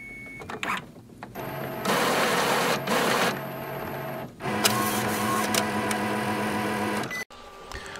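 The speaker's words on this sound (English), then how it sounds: "And this is how the printer powers off." An Epson printer powers off with a whirring, grinding run of its printhead carriage and motors, stopping and starting in loud bursts before a clunk and quiet hum at the end.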